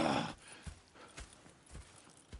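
Horse hooves clip-clop in a steady walking rhythm in Red Dead Redemption, a run of close, moderately loud thuds after a brief burst of noise at the start.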